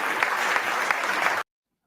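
Crowd applause at a political rally rolls in a thick, steady wash of clapping with a few louder individual claps, then cuts off abruptly into silence.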